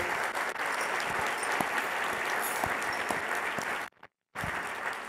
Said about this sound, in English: So can we get a round of applause for ASU GSV for putting this together?